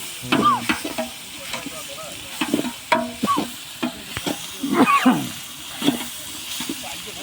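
A big pot of village-style biryani masala mixture, about three kilos, gets stirred with sizzling underneath and irregular scraping and clanking, while voices talk nearby in the background.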